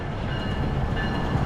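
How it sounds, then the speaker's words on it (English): A train rolls past with a steady, dense rumble and rattle of wheels on rail, fairly loud and close, with no talk over it. "There's the other train we could actually take home."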